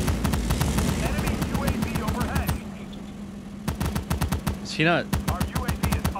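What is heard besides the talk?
gunfire in the video game World War 3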